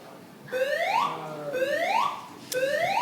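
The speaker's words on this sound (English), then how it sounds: "I think that sounds like the fire alarm." A building fire alarm sounds a repeating rising electronic whoop, three sweeping tones in a row, loud and clear over a quiet room with no talking.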